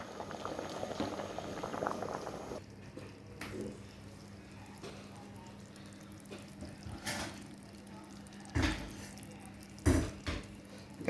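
Rice for biryani simmering in a pot with chicken stock, a quiet continuous bubbling and gurgling with a few soft knocks and bumps, no voices.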